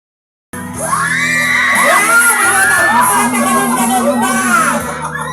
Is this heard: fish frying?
no